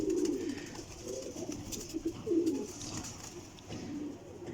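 Flying pigeons coo repeatedly in low, throaty bursts throughout, with several birds overlapping against a faint background hiss.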